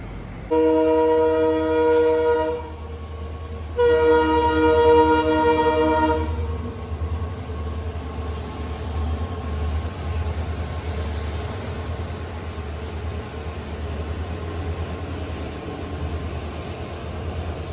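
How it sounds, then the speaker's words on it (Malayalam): A train at night near Kuttippuram, Kerala sounds two long, loud horn blasts separated by a short gap, followed by a steady, heavy rumble of wheels on the track. "ട്രെയിൻ വരാണ്ടല്ലോ അവിടെ പച്ച സിഗ്നൽ."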